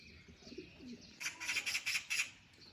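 Magpies giving alarm calls, a burst of rapid harsh chattering notes in quick succession, fairly close and clear after a few softer sounds.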